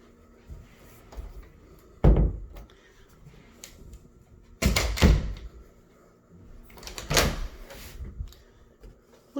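A closet door in a bedroom of a house for sale is handled, giving a few separate thuds and knocks with low rumbling in between, close and fairly loud, and no one speaks.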